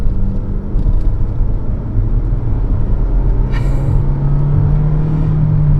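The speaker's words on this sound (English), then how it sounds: "Now I'm gonna give it the gas a little bit." A 2021 Nissan Rogue accelerating, a steady low engine rumble heard from inside the cabin, rising gently in pitch toward the end as the car gains speed.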